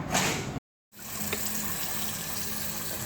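Tap water running in a bathroom sink while something is washed under it, a close, steady rushing stream that cuts out briefly near the start and then flows on evenly.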